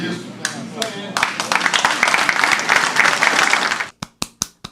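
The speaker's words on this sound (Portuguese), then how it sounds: "Muitas palmas, né? Merece todos os aplausos esse sujeito." Audience applause swelling suddenly after a speaker finishes, a dense burst of clapping for a few seconds, then dwindling into a handful of isolated, sharp claps.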